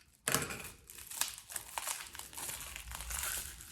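A plastic package of sticker dots being opened, with a sharp tear at the start followed by continuous close crinkling and rustling of the wrapping.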